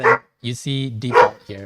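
A pet dog barks a few sharp yips close by in a home office, mixed in among a man's speech as he talks through commands.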